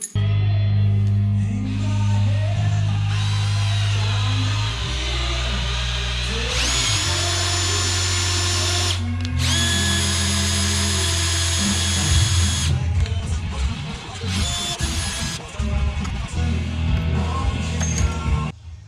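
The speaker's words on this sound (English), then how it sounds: "So I'm drilling and tapping the holes" A power drill whines in repeated bursts, starting and stopping with pauses between, close up and fairly loud, drilling holes in metal windscreen parts for a Land Rover 80-inch Series 1, with no speech.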